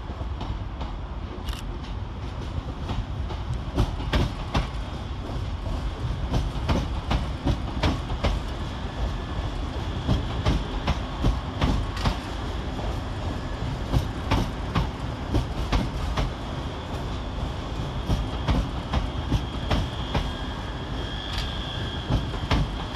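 Class 385 electric units roll in to terminate at Glasgow Central, a sustained loud rumble punctuated throughout by sharp rhythmic clicks of wheels over rail joints, with a faint high whine near the end.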